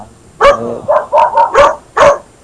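A dog barks five or six times in quick succession, loud and close, with short sharp yips and no talking.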